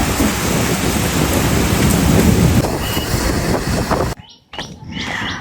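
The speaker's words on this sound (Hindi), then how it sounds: "बादल भी गरज रहे हैं।" Thunder rolls from storm clouds over a hilltop Shiva temple at Gagan ji ka Tilla in Hoshiarpur, Punjab, a loud sustained rumble mixed with heavy rain-like noise that cuts off abruptly near the end.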